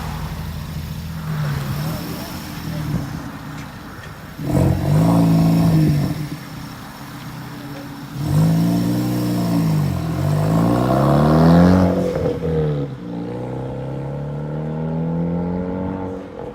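A big-turbo Ford Focus ST, full bolt-on with a GT3071R turbo and a stock clutch, revving hard in repeated rising and falling pulls. A loud, close engine drone with harmonic sweeps, and voices in the background.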